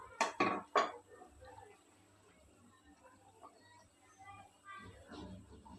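A spoon clatters against a pot while dal dhokli is stirred, with a few sharp clinks at the start followed by faint scraping and a soft liquid swirl, close and quiet.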